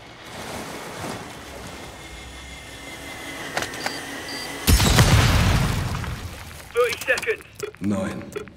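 A bomb goes off in Call of Duty Modern Warfare II during the Raid Atomgrad mission: one loud, deep boom midway with a rumbling decay, set against windy ambience, with voices talking shortly after.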